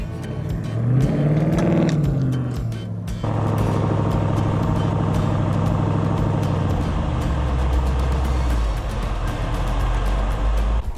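A vehicle engine revving hard while pulling out of being stuck, a loud rising roar that cuts off briefly, then a steady heavy growl of throttle with low rumble building near the end, no voices.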